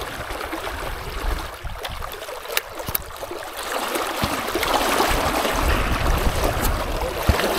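Fast-flowing water at a river fishing spot, where the current has grown stronger, makes a continuous rushing wash that swells louder in the second half, with no talk.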